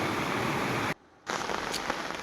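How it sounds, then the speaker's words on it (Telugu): Steady rain pours down outdoors where goats stand sheltering by a rock, a dense even hiss that cuts out briefly near the middle before resuming just as strongly. "చూడండి ఎలాగ వస్తుంది వర్షం"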